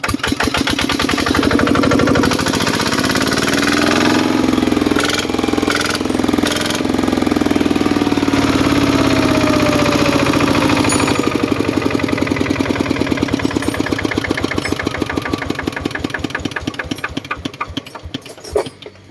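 A walking tractor's small single-cylinder engine chugs loudly and steadily, its pitch rising as it revs, then slowing toward the end.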